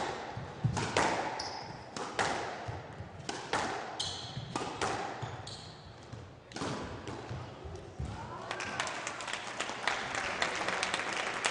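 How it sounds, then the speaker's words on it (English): Spectators at a squash semifinal in Ottawa clap and applaud while squash ball strikes and sharp squeaks ring out in the hall, the applause rising in bursts at moderate distance. "Again, the crowd showing their appreciation."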